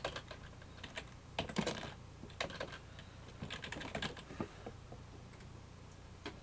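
Fingers type a name on a computer keyboard in irregular bursts of quiet clicking keystrokes with short pauses, close and soft in a quiet room, with no talking.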